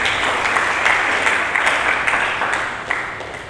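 Congregation applauding during a church sermon, a steady dense wash of clapping from a crowd that holds for several seconds and tapers slightly toward the end.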